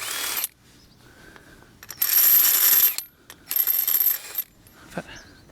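A ratchet wrench with a 19mm socket spins loose wheel nuts off a Land Rover Discovery 3, bursts of rapid pawl clicking in several separate runs with short pauses between them, close and fairly loud.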